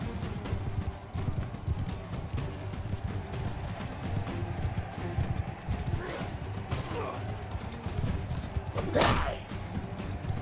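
Horse hooves clatter at a steady gallop from a Mount and Blade 2 Bannerlord battle, under a dense wash of crowd and combat noise with scattered thuds and a sharp burst near the end.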